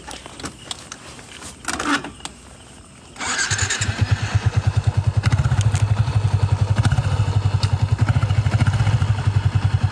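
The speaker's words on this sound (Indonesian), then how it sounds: "Kita pakai motor boleh kah?" A motorcycle engine cranks and catches after a brief pause, then settles into a steady, close, throbbing idle.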